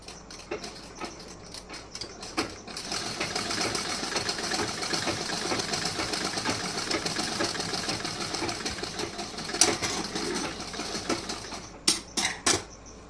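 A sewing machine stitches a blouse with a fast, even mechanical whir and ticking, running steadily close by and stopping briefly near the end with a few separate clacks.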